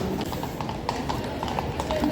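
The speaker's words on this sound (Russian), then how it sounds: "Ох, какие красивые лошадки." Horses' hooves clip-clop on pavement in Kraków on a morning walk to Wawel Castle, a steady series of hollow clops near the listener over busy street background, with people talking.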